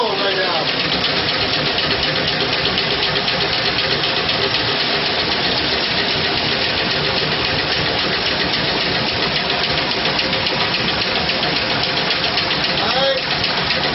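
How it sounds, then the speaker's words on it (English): Homemade water-powered engine machine running on its own, a loud, steady, close mechanical hum with dense rapid knocking that holds unchanged throughout. "This machine is running on its own right now."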